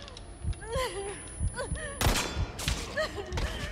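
Sharp gunshots crack out in bursts in Resident Evil 4 Remake, a loud volley near the middle, mixed with speech and game sound effects.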